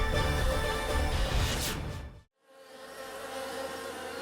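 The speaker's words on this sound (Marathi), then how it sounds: "किडेच किडे सगळीकडे" A swarm of insects buzzes over a crop field, a loud close droning hum that swells, cuts out abruptly for a moment, then resumes more softly.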